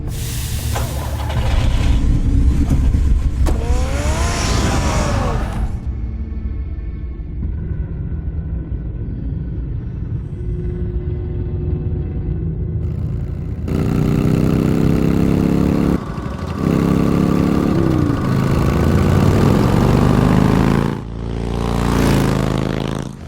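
Engine rumble from a car being driven in the Batman Telltale video game, a steady loud mid-pitched drone that runs throughout, swelling and shifting with several brief dips and surges.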